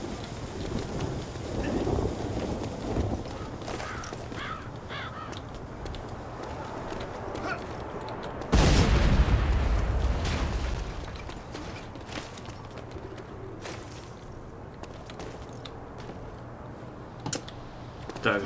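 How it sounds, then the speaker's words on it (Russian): A tower blows up in The Saboteur with a sudden loud, broad explosion boom that rumbles and fades over several seconds, amid game noise with scattered clatter and crackle. "Вышку мы взрываем."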